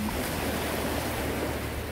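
Ocean waves wash steadily onto the shore in the Korean countryside, a continuous broad rushing surf with no voices.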